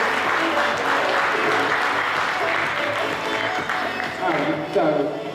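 A youth volunteer forum audience at a university applauds an award recipient, a continuous wash of clapping from a crowd with some voices mixed in throughout.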